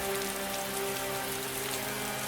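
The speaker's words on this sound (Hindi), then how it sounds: "देखते ही देखते बारिश पूरे गांव पर कहर बनकर टूट पड़ती है।" Heavy cartoon-style rain pours over a village, a steady, dense hiss of drops drumming on surfaces with a constant low hum beneath, continuous and fairly loud with no voices.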